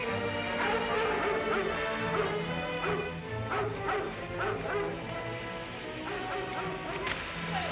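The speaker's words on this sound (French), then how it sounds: "Les chiens" Several dogs bark and yip from a short distance over a steady noisy background in a period drama scene near patrolled border country, with a faint voice briefly present.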